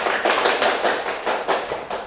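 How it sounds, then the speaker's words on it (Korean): Scattered applause from a small audience in a lecture hall, a brief patter of hand claps in uneven bursts lasting about two seconds, moderately near with no speech. "박수 한번 쳐주시고"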